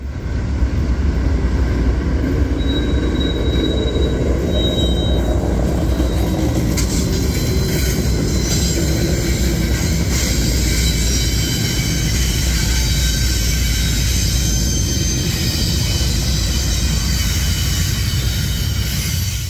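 A freight train backs up, rumbling steadily and loudly nearby with continuous rolling noise, while a thin, high metallic wheel squeal rises briefly early on.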